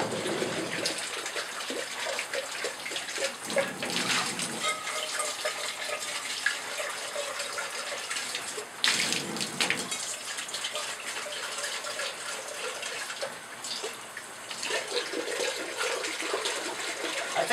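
Running tap water rinses stainless steel film developing containers at home, a continuous splashing stream with a louder gush and clatter partway through.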